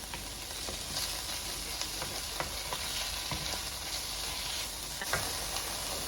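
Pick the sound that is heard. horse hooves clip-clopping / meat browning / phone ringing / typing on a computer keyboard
meat browning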